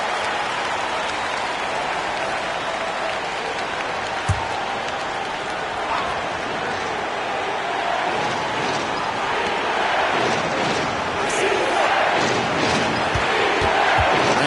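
A basketball arena crowd roars and cheers after a game-tying outside shot in an NBA playoff game between the Timberwolves and Lakers. The loud, dense crowd noise is sustained throughout, with a few thuds and sharp hits near the end.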